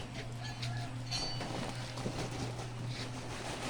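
A quiet, steady motor hum from an automatic lechon (whole roast pig) roaster drones with a constant low tone, running evenly and faintly without interruption.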